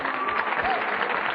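Applause from a comedy club audience at a 1991 standup show, a brief, steady burst of many hands clapping with a slightly muffled, broadcast-like quality.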